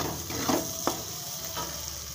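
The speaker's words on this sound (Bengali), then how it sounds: "আলুটা ভাজা হয়ে গেছে" Potato pieces fry in oil in a pan for homemade chowmein, a steady soft sizzle with a few scraping stirs of the spatula, quiet and close, with no voices.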